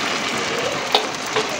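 Otak-otak and tahu aci frying in hot oil at a street food stall, a steady close sizzle with a couple of small pops.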